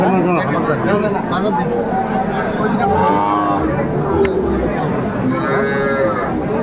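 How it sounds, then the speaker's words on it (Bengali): Sahiwal cattle moo at a cattle market in Sylhet among a crowd of people chattering, with a few drawn-out lowing calls rising over the constant busy murmur of voices. "মাহাবুর ভাইয়ের গরু আমরা দেখছিলাম।"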